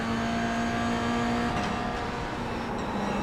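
A race car engine drones loudly and steadily on a track as another car passes on the left, the tone holding and then shifting slightly midway; the sound stays close throughout and nobody talks.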